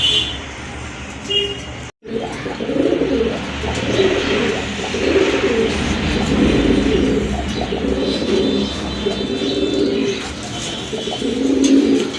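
Pigeons coo in low, throaty bursts that repeat steadily and close by at a pigeon market, with faint chirps and distant noise behind.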